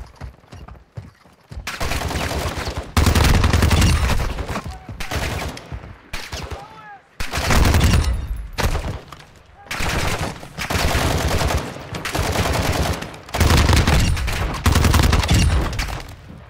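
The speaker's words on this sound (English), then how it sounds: "You are taking effective fire." Bursts of automatic gunfire in the Call of Duty DMZ video game crackle loudly in repeated volleys separated by short pauses.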